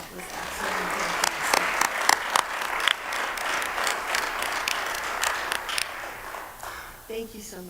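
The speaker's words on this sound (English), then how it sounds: "Can we give them another round of applause?" Audience applause fills a hall at a diversity and special recognition awards ceremony, a dense, steady wash of clapping with sharper individual claps popping out, sustained for several seconds before tapering off near the end.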